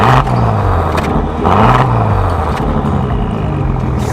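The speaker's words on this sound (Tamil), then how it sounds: "நான் உள்ளார போய் ஒரே ஒரு டைம் த்ராட்டில் கொடுத்தேன்" A Bentley Continental GT engine in London is given one blip of throttle, swelling into a deep, loud rev that rises and eases back over a steady close rumble.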